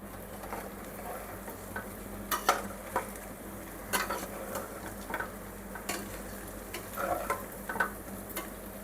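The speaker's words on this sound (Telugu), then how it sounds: "ఇప్పుడైతే మనం కలుపుకుందాం." A spoon stirring bitter gourd curry in a pan, quiet scraping and clinking strokes at an irregular rhythm over a low steady sizzle, with no talking.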